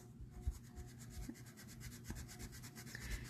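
A sand-and-rubber block is rubbed with its sanding side in quick, even back-and-forth strokes, producing a faint, close scratchy rasp that repeats steadily and quietly without talk.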